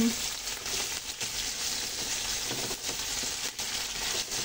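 Chicken liver half-cooking in a hot pan, giving a steady, close, broadband sizzle with faint stirring that holds evenly through the whole stretch.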